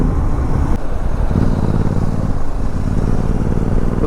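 Motorcycle riding on a road during a breakfast ride toward Solan, its engine rumbling close and steady with road and wind noise throughout.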